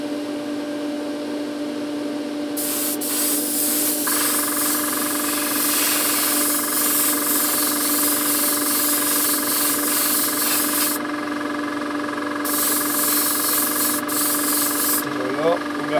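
A spray gun hisses loudly in long bursts while coating a panel of a Renault 5 Alpine, over a steady compressor hum, with short gaps between passes.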